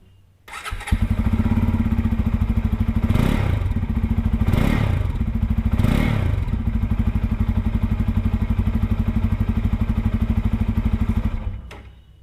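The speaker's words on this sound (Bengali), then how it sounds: "গাড়িটিকে একবার স্টার্ট করে এর এক্সজস্ট সাউন্ডটা একবার তোমাদেরকে শুনিয়ে দিচ্ছি।" A Bajaj Pulsar N250 motorcycle starts after a brief crank, then settles into a deep, steady idle with a throbbing exhaust beat. It is close and loud, a few revs swell in the first seconds, and it cuts off near the end.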